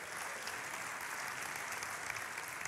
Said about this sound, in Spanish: Y aplaude a Dios porque Dios va a hacer algo grande.